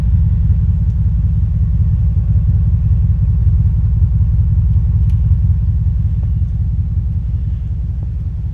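The engine of a factory-original 2000 Cadillac Eldorado ESC runs while the car is driven, a steady, loud low rumble heard from inside the cabin with no talk, fading slightly toward the end.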